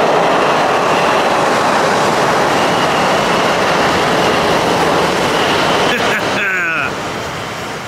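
Trains pass close by as a loud continuous rumble and clatter of rolling wagons, ending with a brief high metallic squeal before the noise drops off.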